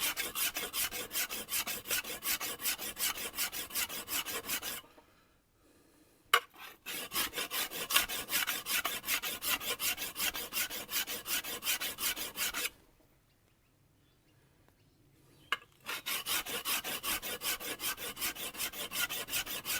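A steel chisel is rubbed back and forth on a coarse 80-grit sharpening stone, making a rhythmic, gritty rasping scrape in quick strokes. Two brief pauses break the close, steady grinding.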